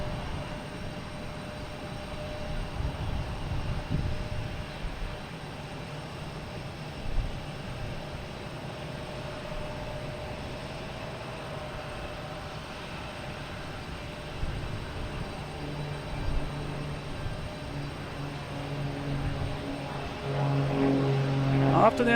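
A Cape Air propeller plane in rainbow livery drones steadily at Boston Logan, its low engine rumble rising a little toward the end with no one talking.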